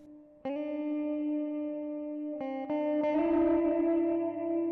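Sustained electric guitar chords through a Walrus Audio Melee distortion and reverb pedal ring out with heavy reverb and light grit, struck three times and left to wash and decay, no talking.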